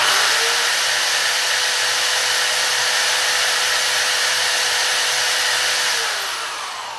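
A homemade generator built from a drain pump runs steadily with a loud, even, high-pitched whine throughout, holding constant before easing slightly toward the end, with no talking over it.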